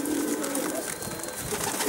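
Soft cooing of pigeons close by, low repeated calls over a background hum of outdoor noise.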